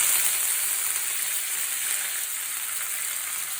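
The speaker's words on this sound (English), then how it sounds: "Ghee is hot. We'll add some tempering. Add mustard seeds. Add jeera. Add curry leaf." Mustard seeds, cumin and curry leaves crackle in hot ghee for a masala idli tempering, a dense, even, close hiss of frying that holds steady throughout without talk.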